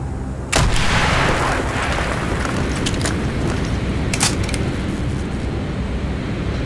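A loud explosion blows open a wall in Call of Duty Black Ops, a sharp blast breaking a brief quiet and leaving a long rumbling roar, with a second burst of debris or gunfire partway through.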